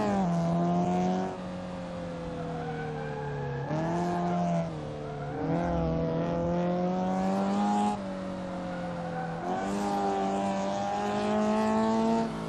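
A car engine in a sim-racing game held at full throttle, revving loud and steady with rising and falling pitch sweeps as gears change, running continuously with no talk.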